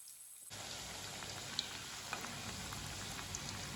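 Pakoras, tomato fritters, sizzling steadily in hot oil, a dense continuous crackle with occasional sharper pops, close and alone after a brief quiet start.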